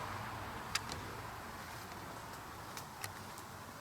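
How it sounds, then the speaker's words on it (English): Cars passing on a road under 100 yards from a countryside church, heard as a faint, steady distant rush of traffic with a few soft clicks and ticks. "So you can hear cars go past."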